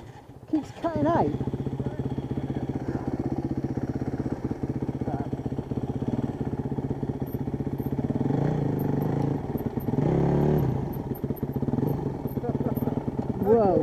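A trials motorcycle engine runs close by, with a steady, continuous motor hum and occasional revving across the clip, and a voice speaks briefly near the start.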